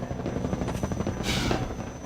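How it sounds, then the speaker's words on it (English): A combat helicopter in the video game Half-Life 2: Episode Two, its close rotor thudding in a steady rapid beat, with a brief whooshing swell partway through. "Since you brought that chopper in on your tail,"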